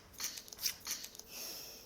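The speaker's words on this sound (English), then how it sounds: "The scissors." Scissors snip open a Korean convenience store snack package up close, several quick faint cuts followed by a longer rustling slice.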